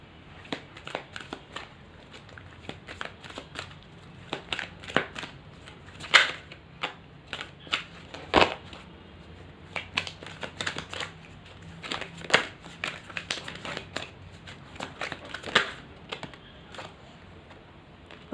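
A tarot deck is shuffled by hand, giving repeated soft riffles and sharp card snaps in irregular bursts, close and fairly quiet.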